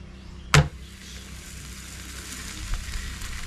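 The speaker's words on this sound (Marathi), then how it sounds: "आणि आता आपल्याला हा पराठा टाकायचा आहे बघा" A fenugreek paratha laid onto a griddle greased with ghee or oil, a sharp burst as it lands followed by a low, steady sizzle that continues quietly.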